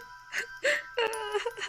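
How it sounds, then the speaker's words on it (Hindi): Soft, wavering sobs and whimpering cries in short bursts, like someone weeping in a dark hotel room at night, faint and close. "रोने की आवाज, वो भी रात को 1 बजे।"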